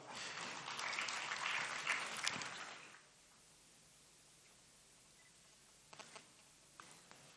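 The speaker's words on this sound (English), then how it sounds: "a round of applause for the COA" Applause from a conference audience swells loudly for about three seconds and then stops abruptly, followed by quiet room tone with a few scattered late claps near the end.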